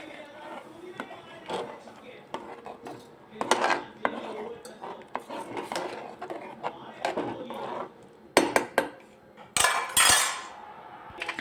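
A spoon stirs dhaba-style potato-pea curry with jaggery in a pressure cooker, giving irregular clinks and scrapes against the metal, with louder clattering bursts toward the end and some talk.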